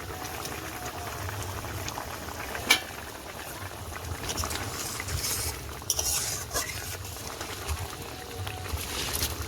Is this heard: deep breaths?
no